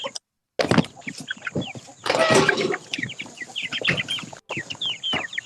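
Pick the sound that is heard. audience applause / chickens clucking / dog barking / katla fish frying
chickens clucking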